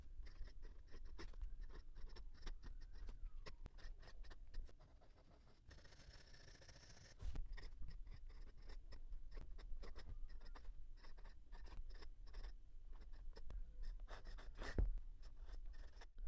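A fountain pen with a stub nib scratches across paper in quick, repeated strokes, faint and close, with a short quieter pause partway through.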